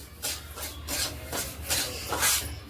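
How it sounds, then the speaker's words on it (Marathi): Semolina roasting in ghee in a pan over a low flame as a spoon stirs it, giving rhythmic dry scraping and rasping strokes about twice a second, close and soft. "बारीक गॅसवरच रवा भाजून घ्यायचा आहे"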